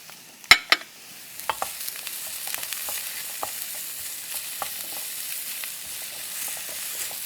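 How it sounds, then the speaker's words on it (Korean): Onion and carrot stir-fry in a pan with a steady low sizzle, opening with a couple of sharp utensil clacks, followed by scattered light scrapes and taps as the vegetables are tossed. "양파 볶아주다가 이제 당근 볶고요."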